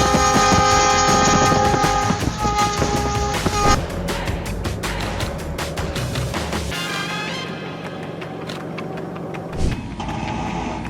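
A train plows through deep snow, its loud, continuous roar carrying a sustained horn blast at first, then churning on with rumbling and hissing spray before a brief louder burst near the end.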